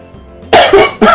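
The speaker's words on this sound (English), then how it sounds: "Sorry guys, bit of a cough." Two loud, harsh coughs in quick succession, very close, following a quiet moment.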